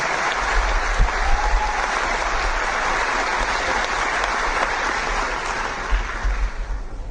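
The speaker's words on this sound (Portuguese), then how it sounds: "Eu queria palmas aqui" A room of attendees at a Priples auction prize event gives sustained applause, dense and steady clapping for about seven seconds, fairly loud and close.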